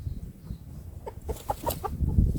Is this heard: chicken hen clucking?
yes